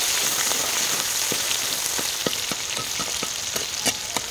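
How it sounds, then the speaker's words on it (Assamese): Marinated singhara fish frying in hot oil, a steady close sizzle with scattered sharp pops and crackles throughout, no talking. "এতিয়া ভাজিবলৈ লৈছোঁ শিঙৰা মাছ তেলখিনি ইতিমধ্যে গৰম হৈ গ'ল"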